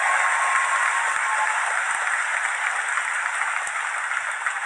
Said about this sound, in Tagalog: hindi lang po yun palakpak, may dalang sigaw pa po yun